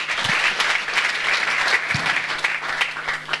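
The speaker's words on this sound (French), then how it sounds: "Est-ce qu'on peut acclamer pour la parole de Dieu?" A church congregation breaks into warm applause at a pastor's call to honour the word of God, many hands clapping in a fast, irregular patter that holds fairly steady from start to finish, with a few louder claps standing out.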